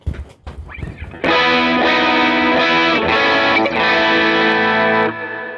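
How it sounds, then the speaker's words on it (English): Loud distorted electric guitar chord rings out after a few muted picking noises, sustained with slight changes before cutting off near the end. "So with some distortion on, that would sound like this."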